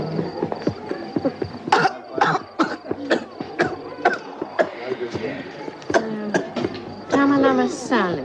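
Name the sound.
cough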